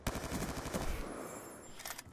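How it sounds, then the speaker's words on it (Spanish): A burst-fire gun in a shooting video game lets off a fast rattling volley of rapid shots, then goes quiet before two fainter shots follow near the end. "De ráfagas y mira cómo dispara, chaval"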